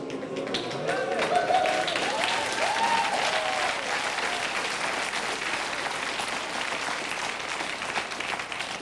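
An audience at a live comedy show applauds in a dense, continuous wash of clapping that holds steady for nearly nine seconds, with faint voices mixed in underneath.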